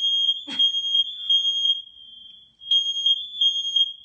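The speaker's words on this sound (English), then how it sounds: "Oh my gosh, the fire detectors." An indoor smoke detector sounds a steady loud high electronic beep that drops out briefly and then resumes, with a single clunk near the start and no speech.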